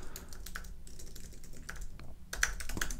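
Close typing of code on a computer keyboard, a quick irregular run of light key clicks with a few sharper taps near the end, with no talking.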